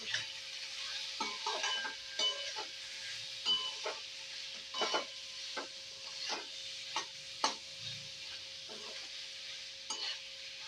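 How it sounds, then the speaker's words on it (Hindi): Moong dal chilla filling of peas and ginger shreds being stirred in a pan, spoon scraping in short repeated strokes over a faint sizzle, close and fairly quiet with no talk. "इसके बाद हम इन सारी चीज़ों को थोड़े से अदरक के लच्छे डाल के अच्छी तरह से मिक्स कर"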